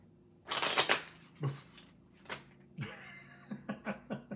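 Cards riffled and bridged in a few quick bursts, crisp papery fluttering followed by soft taps, fairly close with quiet pauses between.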